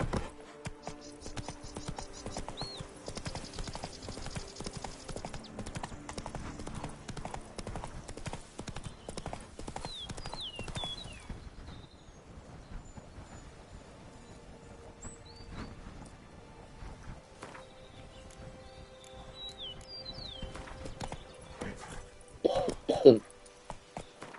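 A horse gallops in the video game The Witcher 3: Blood and Wine, its hooves making a steady, continuous clip-clop over faint background game ambience, with a brief louder burst near the end.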